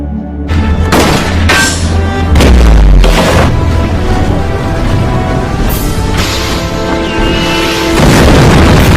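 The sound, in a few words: ship shot and exploding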